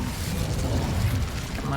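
A Bombarda explosion spell cast in Hogwarts Legacy, heard as a continuous low rumbling blast with crackling bursts that holds steady at moderate loudness throughout.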